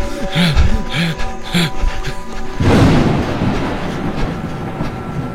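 A train running on rails, heard from inside a passenger compartment: tonal swells early on give way to a loud, steady rumble and rattle that takes over partway through and continues to the end.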